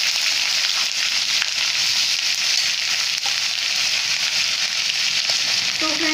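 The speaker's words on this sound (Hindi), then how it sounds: "यहाँ हम अदरक प्याज और लहसुन का जो पेस्ट है वो डाल देंगे" A paste of ginger, onion and garlic sizzles vigorously in hot oil, a loud, steady frying hiss that runs unbroken throughout with faint stirring scrapes near the end.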